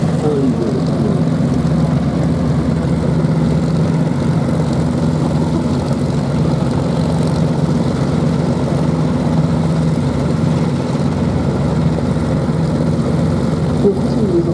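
A Spitfire fighter at the Duxford VE Day anniversary air show gives a steady, droning piston-engine and propeller hum, heard from a distance over outdoor crowd ambience.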